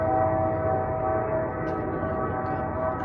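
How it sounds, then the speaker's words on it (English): A Wheeling and Lake Erie train sounds its horn at night, a loud, sustained multi-tone blast held for several seconds over rolling rail noise, fairly close. "That is a good train horn."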